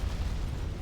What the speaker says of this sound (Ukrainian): подвійна А10 прилітає по нафті Маракара